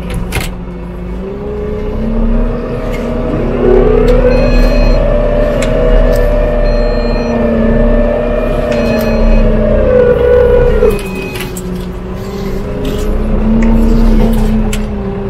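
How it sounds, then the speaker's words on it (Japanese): Tractor pulling a large VICON RO-M 1100G wide fertilizer spreader across a field, its engine droning steadily and rising in pitch for a stretch before easing back, no talk. "なのでそこまで一旦トラクターを動かします。"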